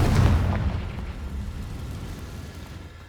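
A Confringo blasting spell goes off in the Hogwarts Legacy video game as a deep, loud boom that swells at the start and then rolls away into a long, fading rumble. No one speaks.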